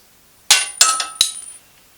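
Three metal bolts dropped through a fitting, giving three sharp, bright clinks about a third of a second apart, each ringing briefly before fading, close and alone with no talk.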